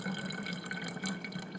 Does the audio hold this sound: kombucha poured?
yes